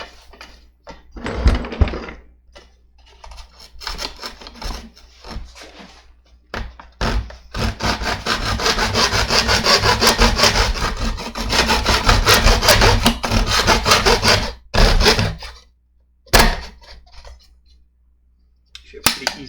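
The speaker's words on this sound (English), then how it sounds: "So let's just take my hacksaw out." A hand hacksaw rasps back and forth in bursts of rapid strokes, close and fairly loud, with a longer sustained run of sawing in the middle and short pauses and clicks between passes.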